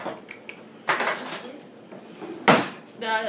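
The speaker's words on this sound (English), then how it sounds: "now I'm I'm going to spread butter" A knife spreads butter over rolled dough before brown sugar and cinnamon go on, giving two short bursts of scraping and clinking utensil sounds with quieter handling noise between them.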